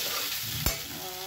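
Vegetables frying and being stirred in a pan, with bell pepper (capsicum) among them: a steady close hiss with one louder scraping stir around the middle, no voices.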